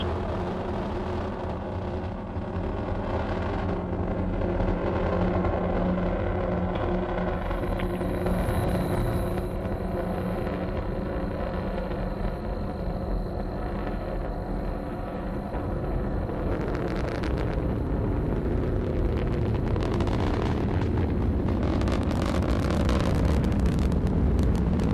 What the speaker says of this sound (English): Booster engine continues to perform well.